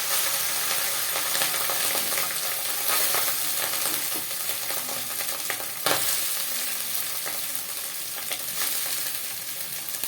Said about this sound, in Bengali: এরপর আমি এই কড়ার মধ্যে রাইস দিয়ে দিচ্ছি।